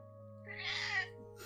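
A single drawn-out meow from Tato, a pet cat, rising and fading over about half a second against a steady low electrical hum in a quiet room.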